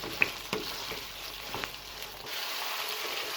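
Chicken liver fries in a pan with a quiet, even sizzle while a few light clicks and scrapes of stirring come and go.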